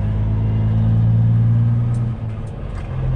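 A heavy semi truck diesel engine idles and rumbles loudly up close as the truck rolls slowly, holding a low steady drone that dips briefly before resuming.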